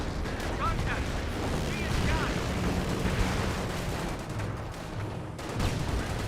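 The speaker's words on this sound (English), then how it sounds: "There's a lot of explosions raining on in." Explosions and artillery fire in the WWII strategy game Company of Heroes, a dense continuous barrage of booms and blasts rumbling throughout, with a voice talking over the battle.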